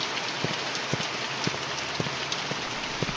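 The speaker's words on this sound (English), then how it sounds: "Of course it would be raining tonight." Steady night rain in the horror game The Mortuary Assistant, a dense constant hiss with occasional louder drops tapping a surface in an irregular rhythm, with no voices.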